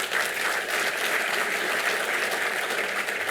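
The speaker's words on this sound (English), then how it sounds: "That's a round of applause." A crowd applauding steadily, dense clapping at even volume throughout, with no voices standing out.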